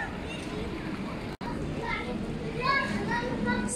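Children play on a small playground in the waiting area of Sochi railway station. Their lively chatter and excited shouts rise and fall over a constant indoor hubbub, with brief sharper cries toward the end.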